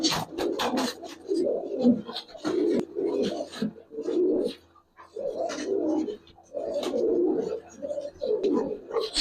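Giribaz and coloring pigeons coo in repeated rolling bursts with short pauses between, close and fairly loud, with no talk over them.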